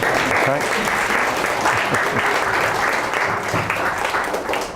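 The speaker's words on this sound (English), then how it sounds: "Round of applause once more." An audience applauds at the end of a talk on freelance photography, a dense, sustained round of clapping that stays loud from start to finish.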